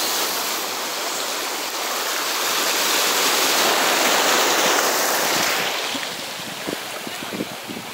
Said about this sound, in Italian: Stiamo aspettando l'onda che ci arriva e ci prende,